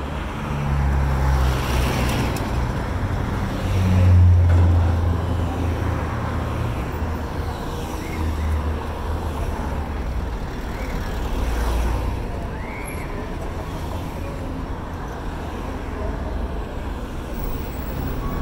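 Street traffic in Mexico City, a continuous low rumble of passing cars and heavier vehicles swelling and fading at moderate distance, steady throughout.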